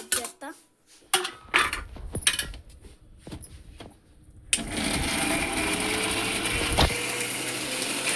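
A grandmother adds masala into paneer gravy in a pot, with metallic clinks and scrapes of a spoon against the vessel followed by a steady loud sizzle.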